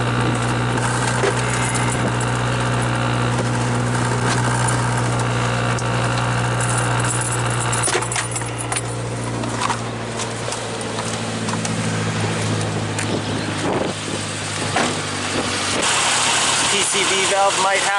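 A Suzuki Samurai engine runs steadily at idle, a constant low drone through the whole stretch with some clattering and handling noise over it, and a voice talks now and then.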